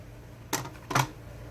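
Scissors snip twice through a laminated planner sheet, giving two short, crisp crunching cuts about half a second apart against a quiet room.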